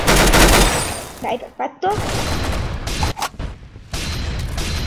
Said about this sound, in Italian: Quando senti uno sparo è sempre bene allontanarsi.